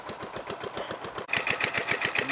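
An old water pump engine in Vietnam chugs with rapid, regular popping exhaust beats like an old John Deere tractor, close and steady, growing louder and harsher after a brief dip partway through.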